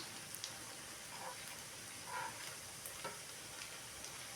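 Chilli omelette frying in oil at a roadside-style stall, a quiet steady sizzle with faint scraping stirs across the pan, no voices.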